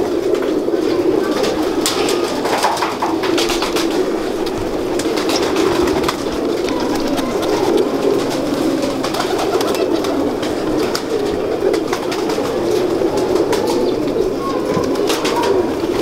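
Ferozpuri pigeons coo in a breeder's loft, soft repeated throaty calls layered over a constant background hum, fairly close and steady with no clear talk.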